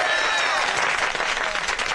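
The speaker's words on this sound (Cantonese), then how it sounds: "大家俾啲掌聲！" A crowd of townspeople claps steadily to welcome a local magistrate in a comedic period film scene, with dense, continuous applause and voices mixed in throughout.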